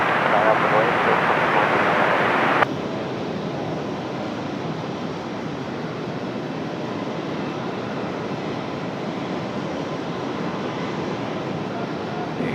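Lufthansa Airbus A220 jet at Raleigh-Durham airport, its engine noise a steady loud broadband roar that fills the whole clip, brighter and stronger in the first few seconds before settling to an even rumble, with no talk.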